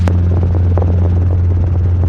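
A Robinson R22 helicopter in flight on a training lesson gives a loud, close, steady rotor and engine drone with a constant low hum and faint rhythmic beating.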